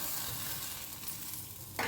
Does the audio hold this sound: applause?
no